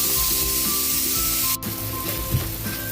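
Onion and tomato sizzle steadily in a hot pan while sinigang is being cooked, with a close, continuous frying hiss, a brief clatter midway and some stirring.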